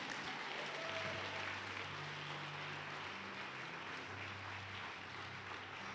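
Faint, steady applause from a church congregation during a worship service, a continuous wash of many hands clapping heard from a distance for several seconds.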